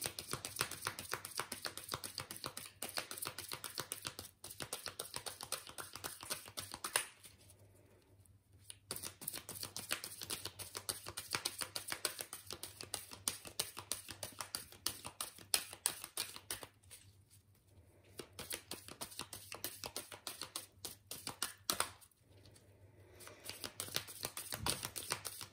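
Tarot cards are shuffled and drawn in long bursts of rapid, close papery riffling and flicking, with two brief quieter pauses between bouts.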